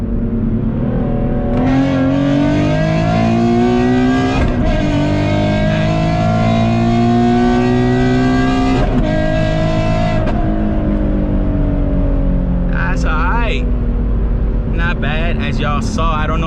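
A car with a new clutch and flywheel accelerates hard from a 50 mph roll. The engine roars loud and close, climbing in pitch through several gear changes, with brief drops between shifts.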